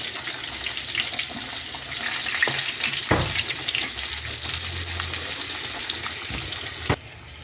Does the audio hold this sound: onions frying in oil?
yes